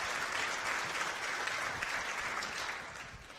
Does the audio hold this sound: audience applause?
yes